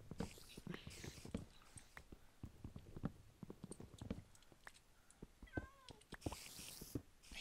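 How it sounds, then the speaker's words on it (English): A pet cat gives a few short meows close by while people talk softly during a cooperative video game session. "God, your cat."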